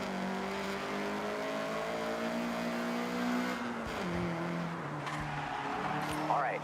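A Honda CRX at full throttle in the Forza Horizon video game, the engine note climbing steadily through the gears with a shift dip midway, loud and close, with a brief tire squeal near the end.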